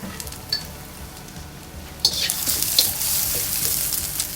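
Garlic hits a hot pan for a stir-fried basil dish and bursts into loud, steady hissing sizzle after a quieter start with a couple of light clicks.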